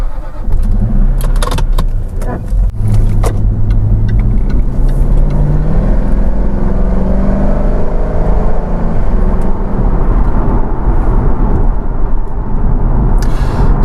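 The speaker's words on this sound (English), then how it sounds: "it's now time to take it for a quick drive and see whether it's been worth it" A Jaguar XK runs along back roads, its engine a steady loud drone with tyre and road rumble, shifting tone as it accelerates, plus rattles and clicks early on.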